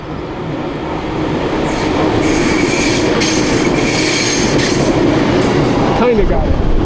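A yellow train passes close by in Tokyo with a loud, continuous rumble of wheels on rails and a faint squeal as it goes.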